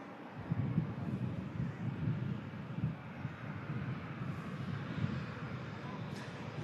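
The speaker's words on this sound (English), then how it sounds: "Aer Lingus climbs out." An Aer Lingus airliner climbing out after takeoff from Manchester Airport produces a continuous, distant jet rumble, steady and fairly faint, mixed with gusty wind buffeting the microphone.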